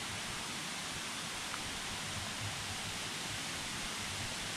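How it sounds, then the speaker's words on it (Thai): Jor Por Ror waterfall in a forest, running full after rain, a steady broadband rush of falling water heard from a distance, fairly faint and unbroken, with no voices. "น้ำตกจอปลอ"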